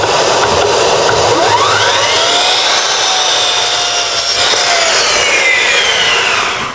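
Scrap wood being cut for an upright in a rustic wall, with steady, continuous sawing at close range and rasping, rubbing strokes throughout and no speech.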